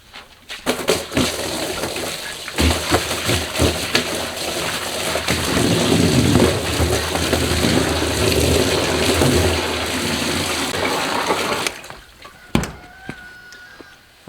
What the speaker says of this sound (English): so we'll fill this up with water